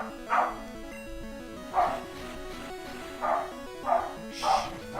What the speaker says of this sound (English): he needs to stop barking